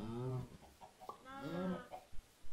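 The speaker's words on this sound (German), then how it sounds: "Komm her, Huhn." Chicken clucking in the Minecraft video game, several short soft clucks and a drawn-out call, fairly faint, with someone talking in German nearby.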